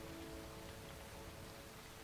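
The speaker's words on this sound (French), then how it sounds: "Je vais attendre qu'il finisse de pleuvoir alors pour m'avancer." Steady rain falling in the video game Starbound, a dense even hiss with a faint low rumble running through the whole stretch, no voices over it.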